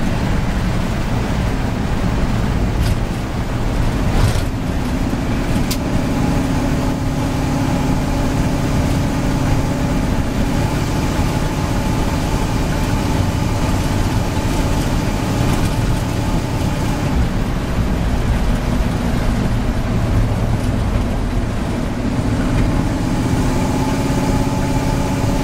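A 1955 Chevy truck engine runs steadily under throttle, a loud, continuous close-up rumble with a dense low drone and a few brief swells in revs.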